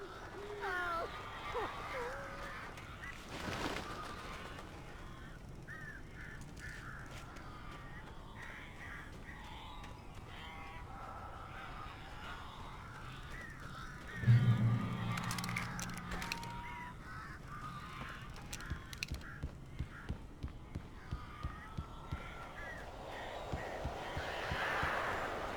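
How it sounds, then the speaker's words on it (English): Crows caw repeatedly in the video game Alan Wake, harsh calls scattered over a dark ambient game soundscape with a sudden loud hit midway and voices speaking at times. "A couple of them got in here before I blocked the chimney. This isn't normal. These birds are weird."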